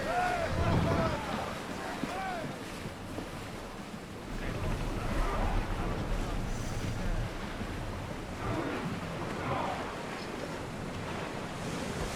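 A sailing ship getting under way on open water in Assassin's Creed Odyssey, steady rushing waves and wind wash around the hull, with game voices talking over parts of it.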